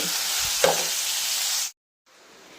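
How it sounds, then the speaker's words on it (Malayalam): Onion, green chili and beetroot sizzle loudly in hot oil, with a brief stirring clatter. The hiss cuts off abruptly, then returns quieter after a moment of silence. "സവാള, ഉള്ളിയും പച്ചമുളകും ബീറ്റ്റൂട്ടും കൂടെ ചേർത്ത് എണ്ണയിലോട്ടിട്ട്"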